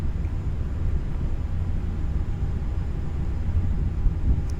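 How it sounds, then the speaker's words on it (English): Airliner engines drone as a steady, even low rumble inside a flight simulator game during an instrument flight out of Southampton, continuous and unchanging throughout with no talk. "It's so relaxing, just the sound of the engines."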